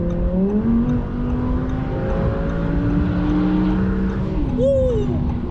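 Twin-turbo V10 Audi R8 accelerating hard at full throttle, a loud, sustained engine howl climbing steadily in pitch through the gears, with a brief shift dip near the end and a voice underneath.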